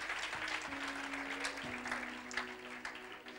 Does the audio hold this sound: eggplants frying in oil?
no